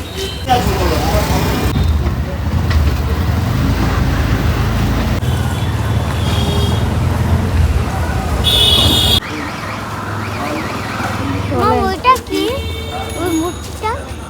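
Riding in an auto rickshaw through Kolkata city traffic, with engine rumble and road noise running throughout, passing vehicles and a brief horn-like tone, and people talking over the din.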